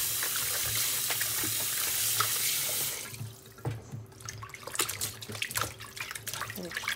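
Tap water runs steadily into a sink as something is rinsed, a dense continuous rush for about three seconds, then the flow stops and leaves scattered drips and splashes alone.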